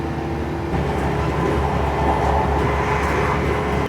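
Onboard a passenger train on the Snow Hill line heading toward Smethwick Galton Bridge, a steady loud rumble of wheels and motor hum with faint rhythmic rail clicks, continuous throughout.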